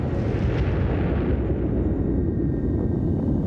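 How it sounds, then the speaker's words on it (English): The first Soviet hydrogen bomb detonates in the Kazakhstan desert in 1953, heard as a loud, continuous, deep roaring rumble that stays heavy and unbroken throughout with no voices. "the first Soviet H-bomb exploded."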